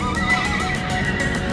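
A horse neighs close by at Blue Bell Campground in Custer State Park, South Dakota, a loud, wavering whinny filling the short moment with no talking.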